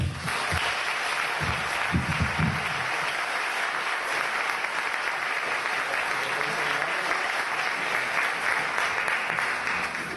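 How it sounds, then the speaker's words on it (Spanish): Audience applause at a Pecha Kucha night presentation, a steady, even wash of many hands clapping that holds for about ten seconds, with a few low thumps near the start and no talk over it. "Un aplauso, por favor"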